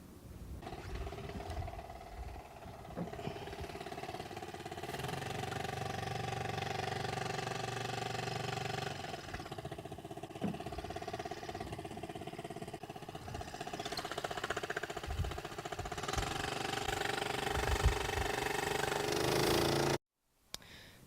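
A J22 sailboat's engine rumbles low and steady at idle, close by, with no talking, cutting out abruptly near the end.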